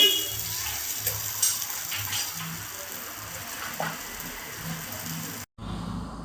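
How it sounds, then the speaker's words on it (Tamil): Coconut oil hits a hot pan while making a potato omelette, giving a steady close sizzle and frying hiss with a voice speaking over it, cut off by a brief drop near the end. "இப்போ தேங்காய் எண்ணெய் ஊற்றணும்."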